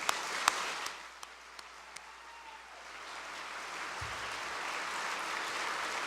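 Audience at an opening ceremony applauding, a faint, even wash of clapping that swells slightly toward the end, with a few sharper claps standing out early on.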